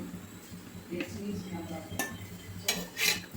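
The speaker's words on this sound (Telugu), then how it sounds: "టూ అండ్ హాఫ్ స్పూన్స్ వరకు అయితే ఆయిల్ వేస్తున్నాను" Spoonfuls of oil going into a heated kadai, with several light metallic clinks and taps of the spoon against the pan over a soft background hum and a faint low voice.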